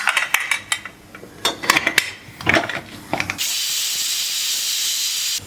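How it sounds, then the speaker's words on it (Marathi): A pressure cooker holding vegetable pulao lets off a sustained, loud hiss of escaping steam, preceded by a few seconds of scattered clanks and knocks of kitchen utensils. "आता कुकरला झाकण लावून आपण 3 शिट्ट्या घेऊ."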